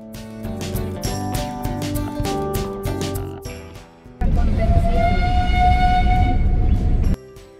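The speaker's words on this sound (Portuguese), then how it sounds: "Esse trem era utilizado para transportar os prisioneiros até as áreas de trabalho." The End of the World train in Ushuaia, Tierra del Fuego, is heard as a loud, steady horn blast lasting about three seconds, following a stretch of clattering, tonal mechanical sound.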